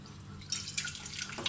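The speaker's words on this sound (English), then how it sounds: "we can add the water which we strained and kept." Strained water being poured into a cooker of beetroot soup mixture with ginger, garlic and shallots, a steady close splashing trickle with a few brighter splashes, no talking.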